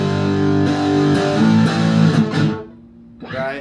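Electric guitar with a distortion effect, played by a beginner guitar instructor: sustained gritty chords ring out one after another, then fade and cut off before a final strummed chord, loud and up close with no talking.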